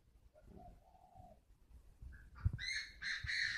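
A pink-colored bred spotted dove coos at a breeding farm in northern Vietnam, faint low cooing notes followed by a brighter, harsher burst of calls.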